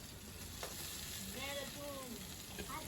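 Egg masala frying in a pan, with a soft, steady sizzle heard close but quietly, while faint voices murmur briefly in the background.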